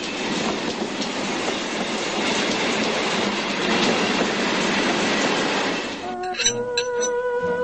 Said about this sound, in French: j'aime bien les trains qui se côtoient aux approches des gares